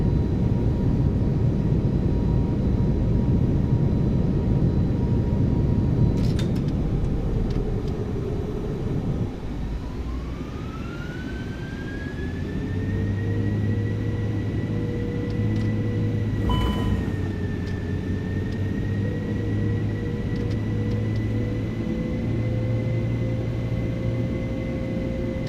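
iniBuilds A330-200 jet engines spooling in a flight simulator, loud broadband roar at first, then a rising whine that settles into a steady tonal hum.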